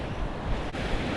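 Strong wind buffets the microphone at a beach with surf behind it, a constant rough roar through the whole short stretch with no voices.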